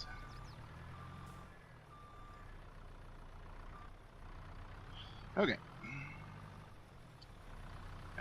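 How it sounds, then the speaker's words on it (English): A truck delivering fertilizer in Farming Simulator, on the Loma Montana map, arrives with a low engine rumble and repeated reversing beeps; the sound stays fairly faint under a brief spoken word. "And our truck is here with fertilizer."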